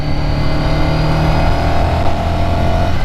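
A Ducati 600SS motorcycle engine, left unused for six or seven years, drones loud and steady while riding, held below 5,000 RPM with constant wind rush and no talk over it.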